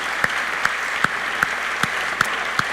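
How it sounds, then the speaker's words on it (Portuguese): Church congregation applauding during a Sunday morning service, a dense wash of hand claps holding steady throughout, with a few louder individual claps standing out at regular intervals. "Vamos aplaudir o nome dele"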